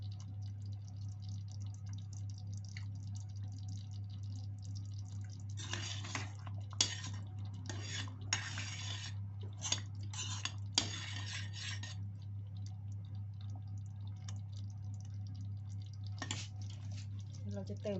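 Pounded peanuts are stirred as they fry in a little oil in a pan, giving faint, clattering scrapes of a utensil in short bursts over a steady low hum.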